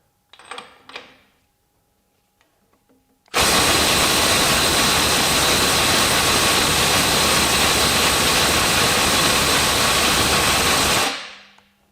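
A 1/4-inch impact driver fitted with a Milwaukee adapter runs flat out during a torque test at around 400 to 450 foot-pounds, a loud continuous rattling roar lasting about eight seconds after a few faint knocks.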